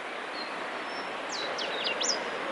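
Two wild birds trade calls in a duet near Kingston, a faint thin whistle answered by a run of quick rising and falling notes, heard over a steady outdoor hiss.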